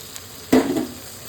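A splash of water hits a pan of frying prawn curry with pointed gourd, setting off a sudden loud hiss that fades under a soft scrape of stirring, with no voices.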